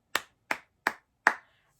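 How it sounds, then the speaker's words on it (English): Four sharp hand claps in quick, even succession, an evenly spaced rhythm of four sixteenth notes, close and clear with silence after. "when we clap this note, you're going to clap 4 times"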